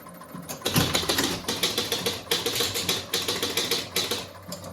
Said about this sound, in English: And I heard some clicking. I bet that was the player unit back here.